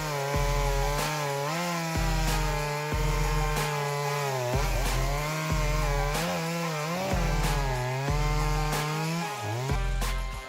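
A Shindaiwa 390SX chainsaw cuts through large poplar logs, its engine revving up and bogging down in repeated cycles as the chain bites the wood, loud and close with no talking.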